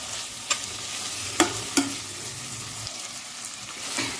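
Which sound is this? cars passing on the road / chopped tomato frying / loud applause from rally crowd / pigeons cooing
chopped tomato frying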